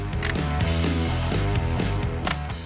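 Parts of a Citroen C25 brake caliper being worked apart during a brake rebuild, giving a loud, steady metallic grinding and creaking with a few sharper clicks, close by, without speech.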